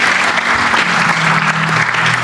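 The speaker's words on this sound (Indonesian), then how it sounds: "Kita kasih tepuk tangan untuk Habib Hussein Jafar Al-Haddad" Audience at a talk applauding the speaker, Habib Ja'far, with loud, dense, continuous clapping from a large crowd, close and unbroken throughout.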